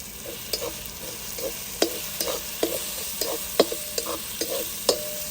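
Turmeric, coriander powder and onion-garlic masala sautéing in a pan for rajma, a low continuous sizzle with a spoon scraping and tapping the pan in a steady rhythm, close by with no voices.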